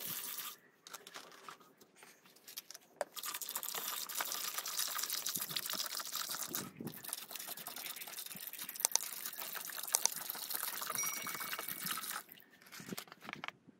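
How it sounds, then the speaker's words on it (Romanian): Water pours and splashes into buckets of dirty decorative stones, a continuous rushing fill with brief pauses and a few clinks, close up. "Acum urmează să punem soluțiile și apă."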